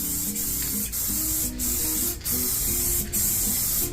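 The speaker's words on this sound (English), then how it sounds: "And when you're spraying like this," A spray gun hisses steadily in bursts while refinishing a Hondo 767 Deluxe guitar, with short pauses between passes, close and fairly loud, while a faint mechanical hum runs underneath.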